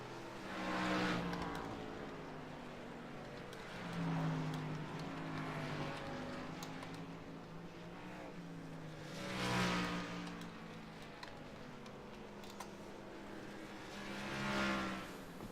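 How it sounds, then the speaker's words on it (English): Race cars circling slowly under caution on an oval, engines droning as they pass by repeatedly in swells every few seconds, moderately distant. "Lead lap cars coming down pit road."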